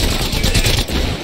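Weapon fire in Apex Legends comes as a rapid, loud burst of close gunshots, tightly packed and continuous for a brief moment, with no talk over it.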